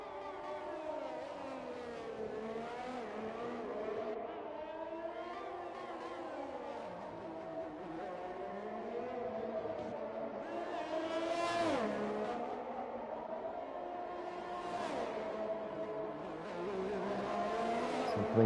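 A Formula 1 car in the F1 2021 game runs through the castle-section turns at the Azerbaijan circuit, its engine note rising and falling steadily with shifts and revs, accompanied by a brief tyre squeal.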